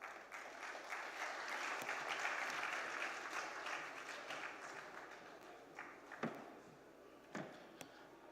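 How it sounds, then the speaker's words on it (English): An audience in an auditorium applauds guests coming onto the stage at an awards ceremony, a dense sustained clapping that swells, then thins into scattered claps toward the end, heard from a distance without talk. "Please give them a round of applause."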